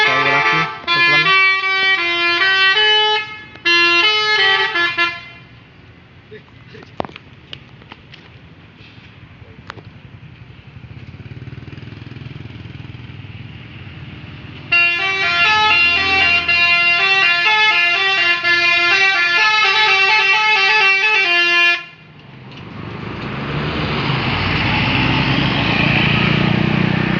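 Melodic basuri telolet horns on a bus at a roadside restaurant stop blare in two long tuneful bursts of repeating notes, loud and near, with engine rumble between and a roaring pass-by at the end.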